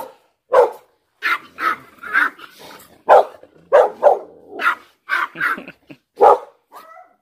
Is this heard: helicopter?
no